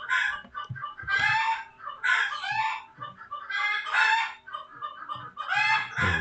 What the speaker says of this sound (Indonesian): Mohon maaf ada suara ayam, sepertinya ayamnya mau bertelur.